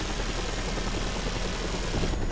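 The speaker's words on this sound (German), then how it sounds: "Ich kämpfe immer schon gegen einen anderen Hubschrauber." A helicopter engine in the video game Just Cause 2 drones steadily as a dense, even rotor and engine roar, loud and constant throughout the short stretch.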